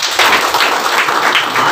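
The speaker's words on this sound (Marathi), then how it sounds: "म्हणून टाळ्या होऊ दे" An audience at a Marathi speech on Dhangar reservation applauds, with brisk, dense clapping that stays loud and close for the whole short stretch.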